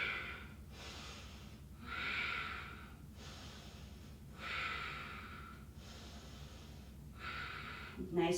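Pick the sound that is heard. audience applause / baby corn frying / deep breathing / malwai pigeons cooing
deep breathing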